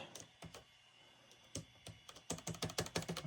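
Typing on the keyboard of a Compaq LTE Elite 4/75 laptop under repair: a few scattered key clicks at first, then a quick run of close, crisp keystrokes near the end.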